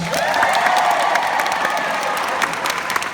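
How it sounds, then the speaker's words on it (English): A large convention panel audience breaks into loud, sustained applause mixed with cheering and whoops, a dense continuous roar from many people filling the hall. "Applause for with glasses"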